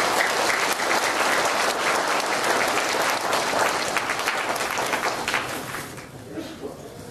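A seminar audience claps loudly and continuously to welcome a speaker, a dense sustained round of applause that thins and fades near the end.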